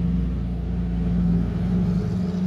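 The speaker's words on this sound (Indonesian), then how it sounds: "bentar, ada mobil truk" A passing truck with a loud exhaust rumbles steadily and close by for a couple of seconds, a low droning engine with no speech over it.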